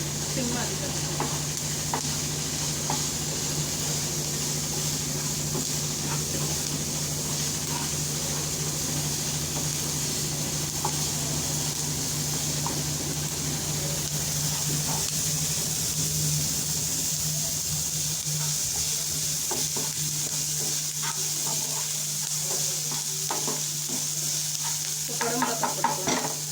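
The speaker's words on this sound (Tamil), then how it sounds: "நல்லா வெங்காயம் வதங்கட்டும்" Onions sauté in a pan for aval kolukattai, giving a continuous close sizzle with frequent light clicks and scrapes from stirring throughout, and a low steady hum underneath.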